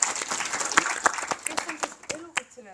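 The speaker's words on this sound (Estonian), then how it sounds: "Palun aplaus." At a youth dance forum panel discussion, the audience claps in scattered, uneven bursts, sharp individual claps standing out rather than a dense roar, while someone talks over them.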